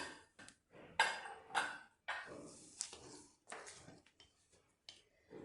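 A metal pressure cooker lid is opened after cooking tindora (ivy gourd) curry, giving several sharp, close clanks and clinks of metal against metal with short gaps between them.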